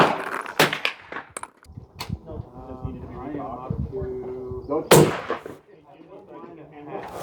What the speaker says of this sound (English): This is a lot of fun to shoot suppressed.